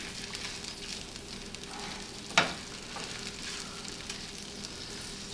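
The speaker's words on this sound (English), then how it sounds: "these ramps are starting to cook" Wild ramps sizzling steadily in a hot pan, a constant close frying hiss with one brief louder crackle partway through.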